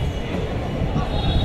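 A metro train at Chickpete station in Bangalore gives a continuous, close rumble and rolling noise, with a voice murmuring faintly beneath it.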